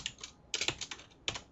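Someone types on a computer keyboard in short bursts of close, crisp key clicks with small gaps between them.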